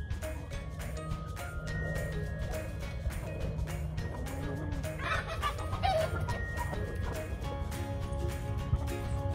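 Hens clucking in a backyard flock, a steady busy murmur of soft clucks with a brief louder burst of squawking midway, over constant low background noise.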